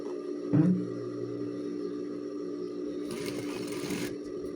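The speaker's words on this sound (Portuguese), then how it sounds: "passar um retrocesso bem aqui no cantinho e só assim cortaremos o elástico" A sewing machine backstitches at the corner of an elastic band for a school backpack, starting with a thump and then running as a steady mechanical hum with a brief faster rattle near the end.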